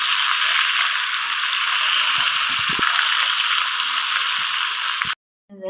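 Chicken deep frying in hot oil in a wok, a loud, steady, dense sizzle with faint crackles that runs for about five seconds and then cuts off abruptly, followed by a brief quieter sound.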